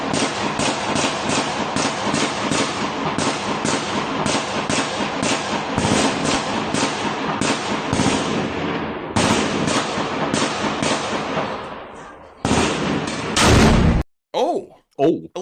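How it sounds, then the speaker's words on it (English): Heavy gunfire and explosions from a firefight in Karabulak, Ingushetia crackle in dense, rapid bursts that run almost continuously, loud and close, broken by a few heavier blasts before abrupt cuts near the end. "You hear the sound of heavy firefights happening outside."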